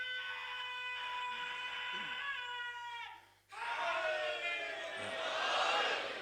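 Crowd at a Shia majlis for Ayyam-e-Fatimiyah chanting a religious slogan in unison, the voices swelling loudly, pausing briefly, then rising again into a dense roaring chant.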